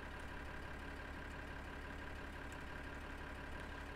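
A tractor engine idles steadily in the Farming Simulator 2013 game, a constant low droning rumble that holds an even level throughout, with no talk.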